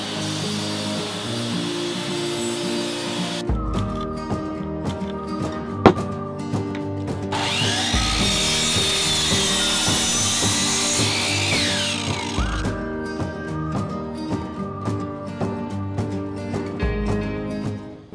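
A power saw cuts through reclaimed wood in several long passes, loud and close, with brief pauses and a knock between cuts.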